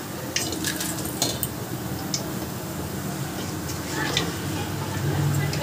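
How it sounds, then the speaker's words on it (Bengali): A small metal strainer lifts fried mihidana, the tiny gram-flour pearls of the Burdwan sweet, out of hot oil, giving scattered light clinks and scrapes against the pan over a low, steady background hiss. "এবার আমি একটা ছোট ছাঁকনি দিয়ে তুলে নিচ্ছি।"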